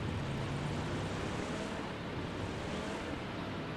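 Ocean waves on a beach in PUBG wash in a steady, broad surf rush mixed with windy noise, continuous and even for the whole stretch, no voices.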